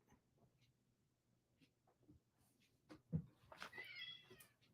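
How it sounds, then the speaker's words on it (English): A cat yowls from another room, distant and muffled, a drawn-out cry near the end after quiet rustling and soft thumps. "My other cat's yelling in the other room."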